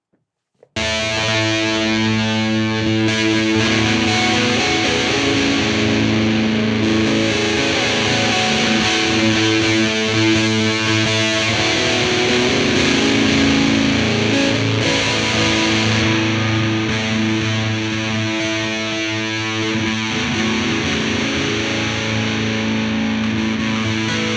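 A distorted electric guitar plays sustained chords and notes alone through a Fender Deluxe Reverb tube amp, warm and steady, with a light shimmer of effects throughout.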